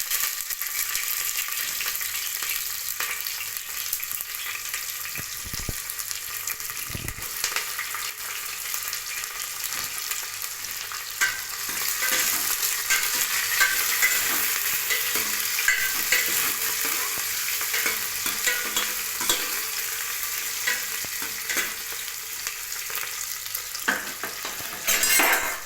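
Onions fry in oil with whole cinnamon, clove, cardamom and fennel for a goat intestine curry. A continuous close sizzle runs throughout, broken by several sharp scrapes and knocks of a stirring spoon against the pan.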